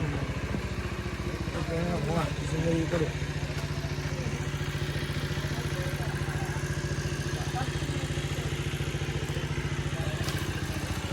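A motorcycle engine runs steadily near a fishing spot at a large pond, a low continuous rumble with some clatter, with people talking over it.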